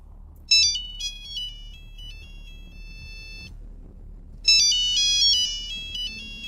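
A phone ringtone plays a short melodic phrase of bright synthesized tones, then stops and repeats after a brief gap, loud and clear over a low background rumble.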